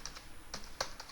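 A password is typed on a computer keyboard as a short burst of a few light, clicky keystrokes in uneven rhythm, heard close and quiet.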